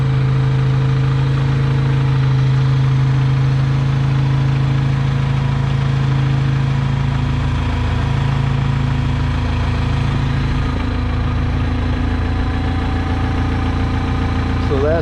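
A New Holland LX565 skid steer engine idles steadily after starting, a loud, continuous diesel drone with a constant low hum and slight knocking that holds evenly throughout.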